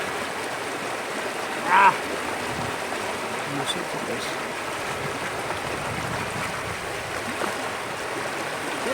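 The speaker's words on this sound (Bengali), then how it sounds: "ওই রকম অল্প একটু জল হলে কি প্রচণ্ড স্রোত, আর পাথরে বাড়ি লাগছে" Strong river current surges over rocks in shallow water near a beach, a steady loud rushing wash that fills the whole stretch, with a brief voiced exclamation partway through.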